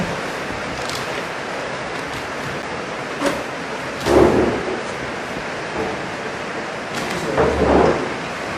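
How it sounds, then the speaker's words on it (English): A thunderstorm with rain in Nigeria gives a steady hiss of heavy rainfall. Low rumbles swell twice and then fade, with a few sharp knocks in between. The sound is close and fairly loud, with no talking. "It's raining in Nigeria."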